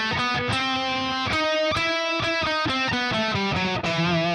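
A lightly overdriven electric guitar plays an E harmonic minor scale note by note, each pitch clear and sustained in a steady run, close and alone without talk.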